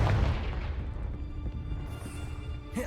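Confringo fire spell explosion in the Hogwarts Legacy video game, a loud booming blast that opens the clip and rumbles away over a low game soundscape.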